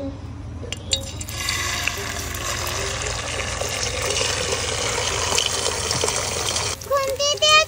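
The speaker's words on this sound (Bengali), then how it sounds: "তেল গরম হয়ে গেছে, তো এবার আমি ডিমটা ভেজে নেব। দিয়ে দিচ্ছি গরম তেলে ডিম।" An egg goes into hot oil in a home kitchen pan, giving a steady, loud broadband sizzle that holds for several seconds before a brief sputtering break near the end, with a voice heard faintly.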